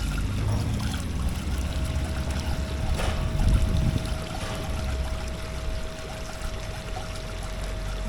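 Hot water gushes and splashes steadily from a 100-year-old artesian bore in outback Queensland, a constant close pour with a faint tonal hum underneath.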